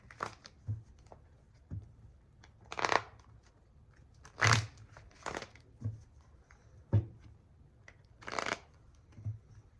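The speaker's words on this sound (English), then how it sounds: "Shuffling the cards for Cancer." Bursts of tarot cards being shuffled, soft papery riffles and slaps recurring irregularly, close by with no talking, during a tarot reading for Cancer.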